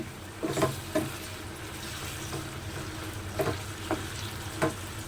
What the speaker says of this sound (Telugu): ఈ చికెన్లో వాటర్ అంతా పోయే వరకు మనం వేయించుకోవాలండి.